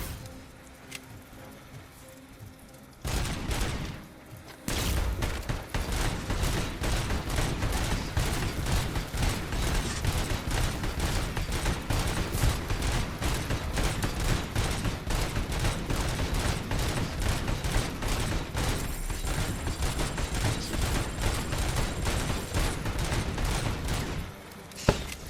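Sustained rapid gunfire in the shooter game RoboCop: Rogue City during a shootout at the Detroit Expo, loud and dense for about twenty seconds after a brief burst, then stopping abruptly.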